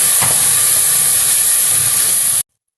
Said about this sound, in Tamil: இதில் இந்த மிக்ஸி கலந்த தண்ணியும் ஊற்றிடுறேன்.